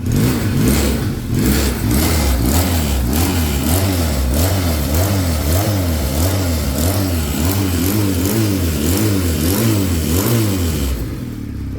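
A Futong JT250 motorcycle engine runs steadily and loudly, with a pulsing rhythmic throb that rises and falls in small repeated revs before settling back to an even idle.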